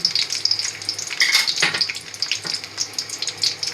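Almonds, dates and coconut fry gently over low heat in a pan, giving a soft, continuous sizzle with light crackles and a few brief stirring sounds.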